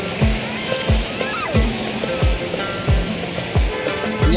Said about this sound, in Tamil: அலை வருது.